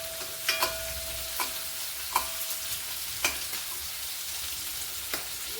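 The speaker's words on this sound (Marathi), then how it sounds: "इथे आता मिरची आपली छान तळल्या गेलेली आहे।" Green chillies fry in a pan for a sabudana khichdi, giving a steady soft sizzle broken by a few sharp clicks of stirring.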